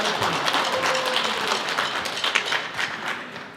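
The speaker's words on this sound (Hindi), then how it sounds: "तो एक जोरदार तालियों से हम लॉरेन मनी जी का स्वागत करें" Sustained, dense clapping from an audience at an Indian community kirtan night in Selwyn, welcoming a guest to the stage, steady and fairly close for the whole stretch with no talk over it.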